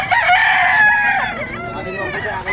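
A gamecock rooster crows loudly close by in one long, drawn-out call with a falling tail, with faint voices around it.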